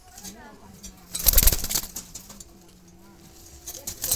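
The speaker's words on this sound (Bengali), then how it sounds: "জ্বালালি বুনো কবুতরের এগুলো" Jalali wild pigeon chicks give low, soft cooing calls in short repeated phrases, heard close under people talking with a brief rustle of movement.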